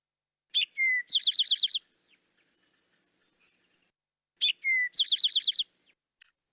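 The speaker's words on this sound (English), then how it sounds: "now I'm going to play the Eastern towhee, which often sounds like it's saying, drink your tea, drink your tea" Recorded Eastern towhee song plays twice, each a sharp two-note opening followed by a rapid trilled burst, crisp and clear against silence.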